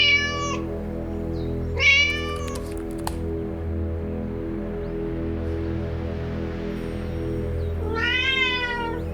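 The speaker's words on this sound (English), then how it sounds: "That's more accurate for how Siamese sounds. They're more demanding sounding." A Siamese cat meows three times, demanding and drawn out, loud and close, with quiet gaps and a faint background hum between calls.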